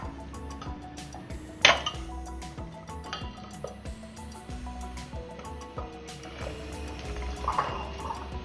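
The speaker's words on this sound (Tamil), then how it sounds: "இன்னும் கூட கொஞ்சம் தண்ணி ஊற்றி" Water poured into a pot of sundakai vatha kulambu, a tamarind gravy with turkey berries, makes a steady, faint splashing stream with light clinks and kitchen ticks around it.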